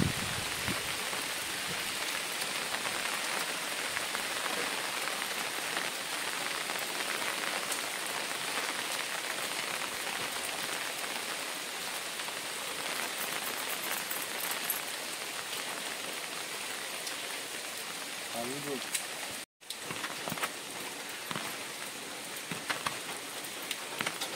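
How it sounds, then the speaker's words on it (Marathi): Steady rain pattering on a surface, constant and enveloping, with no talk; a short dropout near the end. "पाऊस आला."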